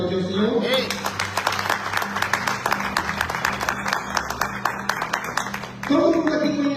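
A church congregation claps for the Lord partway through a sermon. A burst of sharp, fairly close clapping runs for several seconds over a musical background, with voices just before and after.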